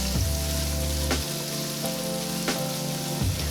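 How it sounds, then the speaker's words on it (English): Vegetables sizzle loudly in a pan of olive oil and butter, a dense, continuous frying hiss close by, broken by a few soft stirring scrapes. "we're going to saute this for a few minutes"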